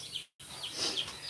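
Chicks cheep in short, high bursts inside a 9-foot by 46-inch heated brooder. The calls are faint and scattered over a soft background hiss, with a brief moment of silence early on.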